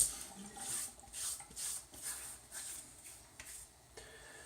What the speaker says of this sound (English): Let me get some water on the face.